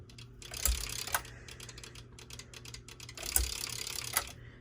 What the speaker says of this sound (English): Really annoying clicking sound.